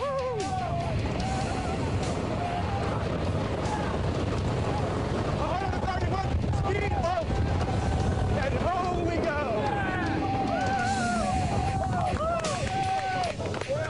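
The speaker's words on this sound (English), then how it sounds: "protect my eyes from the 128 miles an hour wind that we will experience at the end of this launch" A launched roller coaster at an amusement park, one of the world's highest, with riders facing wind at 128 miles an hour. A steady loud roar of rushing wind and machinery runs throughout, and voices shout and talk over it.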